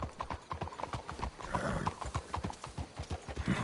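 Horses' hooves clip-clop in a steady rhythmic trot while hitched horses travel along a trail in the video game Red Dead Redemption 2, the beats close and clear with a brief whinny mixed in.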